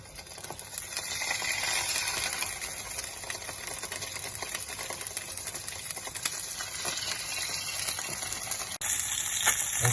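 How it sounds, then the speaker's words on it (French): Salmon fillet laid skin-side down in a hot oiled pan, giving a steady, loud broadband sizzle that crackles continuously throughout, with a brief dip near the end before resuming. "Sur une poêle chaude, nous versons de l'huile. Nous posons délicatement le saumon sur le côté peau."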